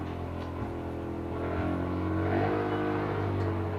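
A neighbor's vehicle engine rumbles low and continuous, swelling slightly louder midway as it revs, with a steady droning exhaust tone throughout.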